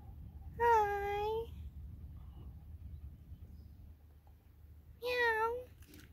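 A domestic cat meows twice, a drawn-out call near the start and another near the end, close and clear over a low background hum.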